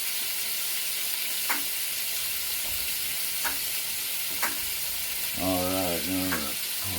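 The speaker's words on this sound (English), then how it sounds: "while the bacon is cooking" Bacon sizzling steadily in a frying pan as a wide broadband hiss, with a few faint clicks, and a voice speaking briefly near the end.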